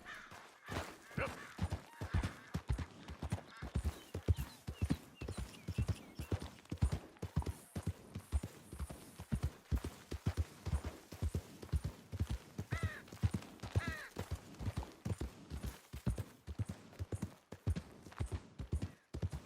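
Horse hooves clip-clop steadily in a fast, regular rhythm throughout Red Dead Redemption 2, close and clear, with an occasional faint whinny and no talk.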